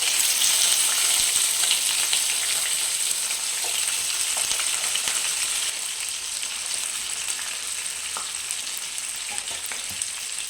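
Chicken frying in a pan with already fried green chillies gives a loud, even, close hiss that eases slightly partway through, with a few faint clinks from stirring.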